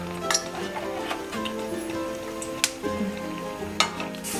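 Hot oil for frying honey candies sizzles steadily up close, a continuous crackling hiss with occasional small clinks and pops.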